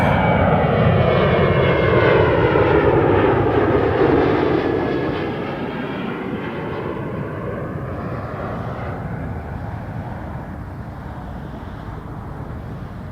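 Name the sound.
airliner at Toronto Pearson Airport lining up on runway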